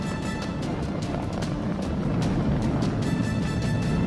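Falcon 9 Merlin 1D engines throttle down during a crewed NASA launch, giving a steady, heavy, continuous roar with rumble and hiss that holds at a high level throughout.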